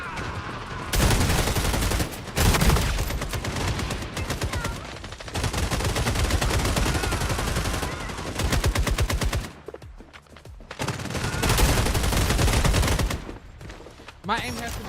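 Video-game weapon gunfire rattles in loud, rapid bursts across most of the stretch, separated by brief pauses, with someone talking over the shots at times.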